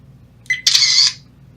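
A dash cam takes a snapshot with a single electronic camera-shutter click, heard close and alone over a faint low hum.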